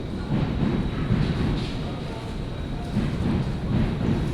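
A steady low rumble of a train passing close overhead on a rail bridge at Borough Market, London, continuous and loud throughout, with faint voices and market bustle mixed in.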